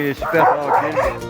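A three-year-old sled dog barks and whimpers in short yips while a person speaks over it nearby.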